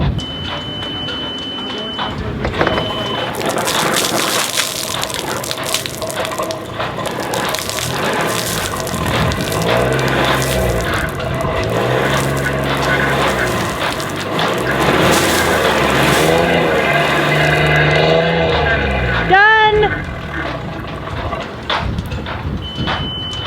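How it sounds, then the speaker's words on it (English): A Vindo 32 sailboat's engine cranks and roars to life, running loud and rough with gurgling, spluttering water blown out of the muffler and hose for a while before cutting off. "Now I'm starting the engine for a minute."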